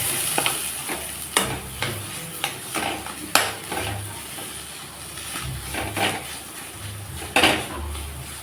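Chopped green chilli being mixed into mashed potato in a pan or bowl, with irregular scraping and knocking strokes of a utensil against cookware, close and fairly busy throughout, no voices.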